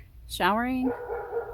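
A dog barks once, a sharp rising yelp that drops into a tonal whine, followed by a softer trailing growl-like vocalization, fairly close and clear.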